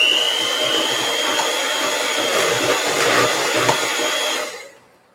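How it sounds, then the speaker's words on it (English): An electric mixer beats an egg into peanut butter cookie dough, a steady close whir running for several seconds before cutting off. "now I'm going to add an egg and just beat it in until it's just blended"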